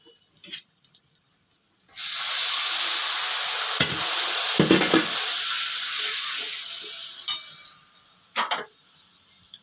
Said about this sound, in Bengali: মশলাটা আমার কষানো হয়ে গেছে, এবার একটু সামান্য পরিমাণ ঝোল দিয়ে দিচ্ছি।